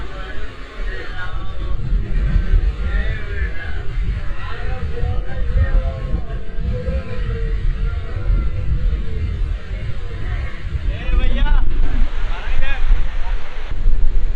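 Wind and surf roll steadily across the open sea beach at Guliakhali, Sitakunda, a broad continuous rush with gusts buffeting the microphone, slightly louder toward the end.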